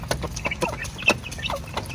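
Soft clucking from native chicks and a mother hen, several short clucks and chirps scattered through a quiet outdoor background, fairly close.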